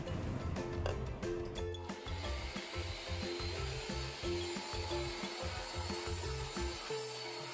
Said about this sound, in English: We had a sawzall, so we used that to finish cutting the rounded edges inside the legs.